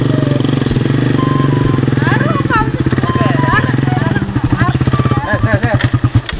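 A motorcycle engine idles and putters loudly up close at a roadside checkpoint, its throbbing pulse quickening toward the end, while several people talk over it.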